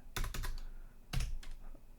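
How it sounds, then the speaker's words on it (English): Keystrokes on a computer keyboard as a terminal command is entered on a Raspberry Pi 5: two short bursts of quick, close clicks separated by a brief pause, with no talking. "Now next we need to type sudo apt install"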